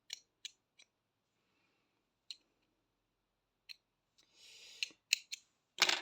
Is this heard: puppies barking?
no